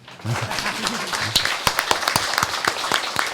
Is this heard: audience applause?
yes